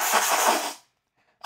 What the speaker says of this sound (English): I'm going to try and blow my nose.